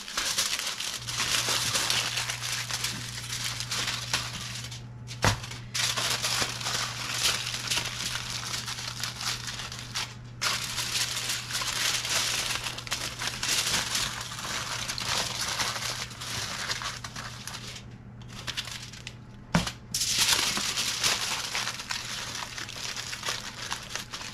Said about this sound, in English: I have a few layers of aluminum foil here. I'm going to tuck them around the sides.